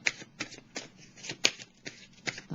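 Tarot cards being shuffled by hand up close, a quick series of soft riffling slaps and flicks in an irregular rhythm, quiet and without talking.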